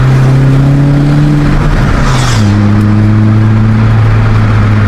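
Car fitted with a Greddy chambered muffler revving with both windows open: a loud, steady exhaust drone climbs in pitch, then settles at a slightly lower note, with no talking.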